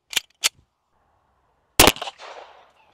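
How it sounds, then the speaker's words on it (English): Two sharp .45 ACP pistol shots fired into a cinder block wall, then a louder, closer shot at about two seconds followed by a brief rattling impact and crumbling debris, with quiet gaps between reports. "the 45 ACP took a big chunk out right here, but it did not come out the back"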